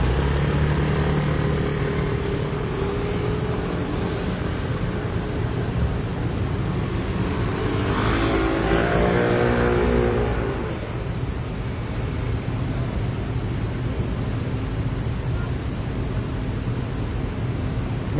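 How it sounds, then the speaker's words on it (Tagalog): Steady broadband street traffic in Taiwan, dominated by many motorcycles, with a passing engine swelling louder near the middle before easing back to a constant roar. "Ito nyo, puro mga motor."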